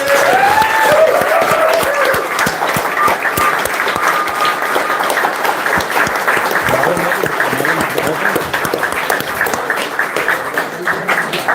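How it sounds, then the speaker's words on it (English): Audience applause fills the room, a steady dense wash of many hands clapping with scattered voices underneath, loud and sustained throughout. "A round of applause for the guys."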